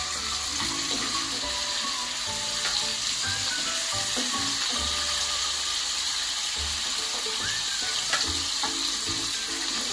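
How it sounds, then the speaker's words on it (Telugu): Eggs and dried fish fry in an oil-filled pan, giving a steady, close crackling sizzle with occasional scraping stirs throughout and no talking. "ముందుగా ఎగ్స్ని ఇలా ఫ్రై చేసుకుంటున్నాను, ఎండు చేపలను కూడా"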